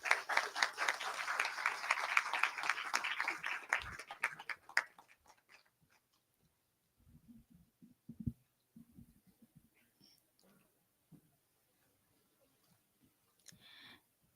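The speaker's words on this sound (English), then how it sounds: "Let's give a round of applause for our panelists." Audience applause for a panel at a morning ceremony, fairly dense for about five seconds and then fading out, leaving scattered soft knocks and rustles in a quiet room.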